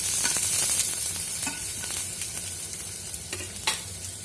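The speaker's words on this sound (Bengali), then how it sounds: "ক্যাপসিকামগুলো বেশি ভাজবো না, অল্প ভাজবো।" Thin-sliced capsicum frying lightly in a pan, giving a continuous close sizzle broken by intermittent stirring scrapes and clicks, with no talk.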